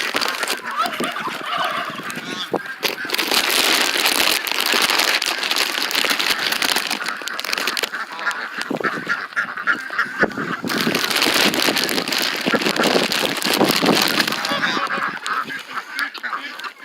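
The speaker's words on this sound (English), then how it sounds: "So we'll go over here where the muscovy and geese are." Geese and muscovy ducks honking loudly and continuously, a dense chorus of overlapping calls from a flock of farm birds close by.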